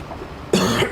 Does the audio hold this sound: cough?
yes